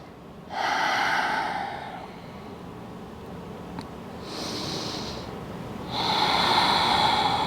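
Deep breathing during a yoga stretch in a posture class: three long, airy breaths in and out, the first and last loudest, close to the microphone with no talking.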